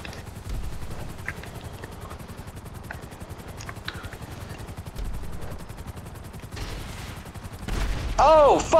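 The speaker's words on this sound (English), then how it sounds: "someone's shooting missiles" Missiles and rapid gunfire in Grand Theft Auto V, dense bursts of game shooting and blasts running throughout, loud and continuous, with a swooping whine near the end.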